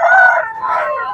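A single loud, close crow from a red-and-black rooster with a long curved tail and yellow legs, at a weekly livestock market in Kunnathur, Tirupur, Tamil Nadu.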